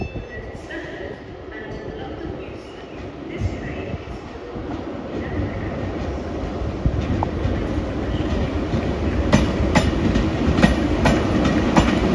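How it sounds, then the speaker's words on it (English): A train rumbles into a station, a heavy low roar with rattling and clacking that grows louder and busier, plus scattered high metallic squeaks. "Here comes my train to take me home. Coming in early."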